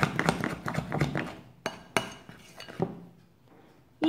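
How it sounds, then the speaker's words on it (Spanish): Oat and amaranth bread dough is mixed vigorously in a bowl. Sharp clinks and knocks of a utensil against the bowl come in quick bursts, then thin out into a few separate taps near the end. "Mezclamos vigorosamente"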